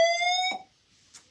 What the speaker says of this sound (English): Sorry about this fire alarm.